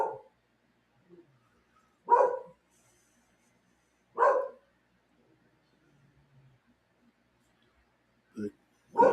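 A dog barks indoors in short single woofs spaced a couple of seconds apart, moderately near, with quiet gaps between barks and a final pair of quicker barks.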